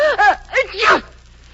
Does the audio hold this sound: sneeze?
yes